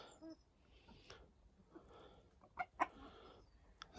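Chickens and a rooster cluck and call in short bursts nearby, with a few sharper squawks in between, quiet and without talk.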